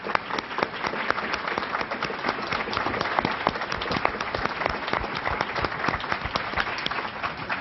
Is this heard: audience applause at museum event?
yes